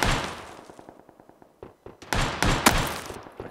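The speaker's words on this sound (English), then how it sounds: "That's somebody shooting at me." Gunfire in the PUBG: Battlegrounds video game, a rapid burst of automatic shots followed by several louder, sharper cracks and thuds close by, loud and alone without talk.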